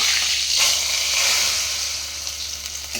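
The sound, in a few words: panch phoron tempered oil and bay leaf sizzling into khichuri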